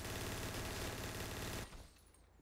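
Rapid, dense gunfire from a GTA roleplay game crackles loud and continuous for about a second and a half, then cuts off abruptly, leaving near silence and one sharp click at the end.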